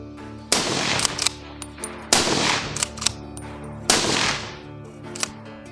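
Beretta BRX1 bolt-action rifle fired at a gun shop range: three loud, sharp gunshots spaced about 1.5 seconds apart, each with a decaying echo, with small mechanical clicks of bolt handling between them.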